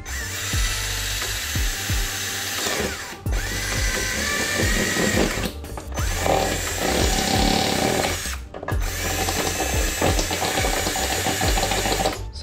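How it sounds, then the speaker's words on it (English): Power drill boring and opening out holes in aftermarket widebody front fenders on a C6 Corvette, a continuous close whine in several long bursts separated by brief pauses, no talk. "So all we really have to do is start drilling these things out."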